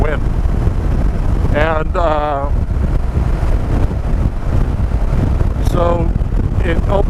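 Strong, steady wind noise rushes past the microphone while riding, a loud continuous roar through the whole stretch, with brief voiced sounds rising over it.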